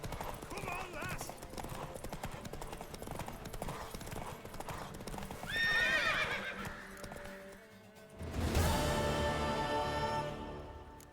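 A horse gallops in a race in the video game The Witcher 3: Wild Hunt, with steady hoofbeats and loud neighs and whinnies. Voices speak over the running hooves.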